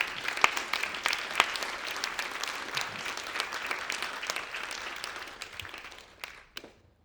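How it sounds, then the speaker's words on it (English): Audience applause at an AI summit of talks and panels: dense, sustained clapping from a large crowd that thins out near the end into a few last scattered claps. "Please don't stop clapping."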